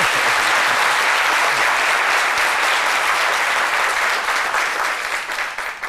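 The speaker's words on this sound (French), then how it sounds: "applaudissez très fort pour lui, s'il vous plaît" Strong, continuous audience applause for a honoured musician, dense and loud for several seconds before easing slightly toward the end.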